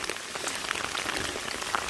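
Steady rain falling on a rocky, muddy Appalachian Trail section, a dense hiss of drops hitting the ground and puddles, close and even throughout, no talk.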